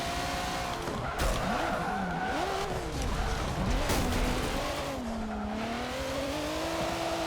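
A race car in Forza Motorsport 7 revs hard through rising and falling engine pitch sweeps, with brief tire squeal and skidding bursts, loud and continuous throughout with no talk.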